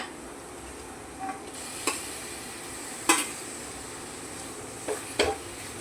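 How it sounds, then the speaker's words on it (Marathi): Minced mutton being added to a frying masala of softened tomato and oil and stirred in, giving a soft steady sizzle with a few sharp clinks of a spoon against the pan, no talking. "तर आता आपण हा जो खिमा घेतलाय तो टाकून घेऊया"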